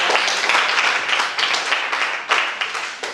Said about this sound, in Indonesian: berikan tepuk tangan untuk kita semua